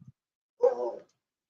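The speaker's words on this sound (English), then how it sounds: "he can bark at you, Grizzles, can't he?" A dog gives a single short, muffled bark from some distance, preceded by a faint brief sound.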